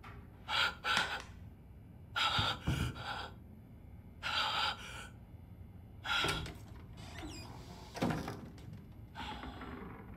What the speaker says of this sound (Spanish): Que la respiración dista y no me deja escuchar nada.